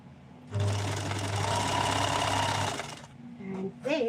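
Sewing machine stitching a zigzag, a steady close mechanical whir running for about two seconds before slowing to a stop, with faint voice sounds near the end.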